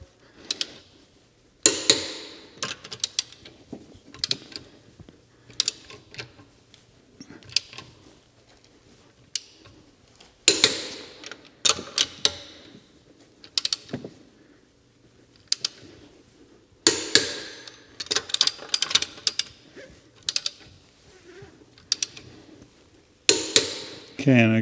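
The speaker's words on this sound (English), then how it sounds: "The click means that we're at the proper torque." A torque wrench clicks in short bursts while tightening lug nuts on a Tesla wheel during a tire rotation, sharp close mechanical clicks and ratcheting repeated in separate groups with pauses, a voice talking between them.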